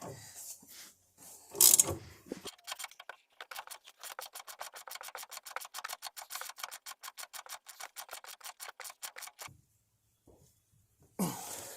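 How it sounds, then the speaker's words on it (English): Ratchet wrench tightening a Rough Country upper A-arm ball joint on a Silverado, a long run of quick, evenly spaced clicking strokes nearby, preceded and followed by brief handling noises and a cough. "crank it in with the ratchet wrench"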